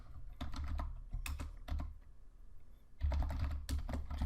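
An email address is typed on a computer keyboard in quick, close, clicky bursts of keystrokes with a short pause in the middle.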